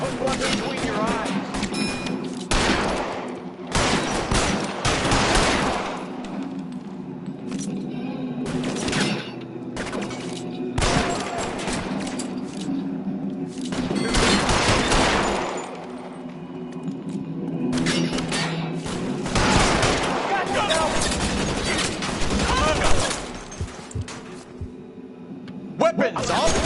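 Gunfire from the video game L.A. Noire cracks out in repeated bursts and single shots across the scene, mixed with loud game effects and voices talking over and between the shots.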